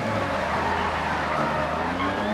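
Rally car in the Dirt Rally video game with its rear wheel broken off, engine drone and tyre scrabble running continuously and loud, with a rising whine near the end.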